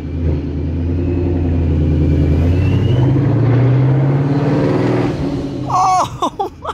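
A Ford S197 Mustang with a new Paxton 2200SL supercharger accelerates hard on its first drive, the loud engine drone climbing steadily in pitch, then easing off as a voice briefly breaks in near the end.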